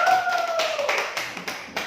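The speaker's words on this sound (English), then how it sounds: "giving applause for first group" Students in a classroom applaud the first group after their presentation, a short run of light, scattered hand claps close by, starting under a brief voice and thinning out to a few separate claps.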